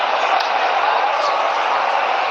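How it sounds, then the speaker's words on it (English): A large cricket stadium crowd at a Pakistan vs India match roars after a wicket, a dense, loud and sustained wash of cheering that stays level throughout with no single voice standing out. "Delirium in the crowd."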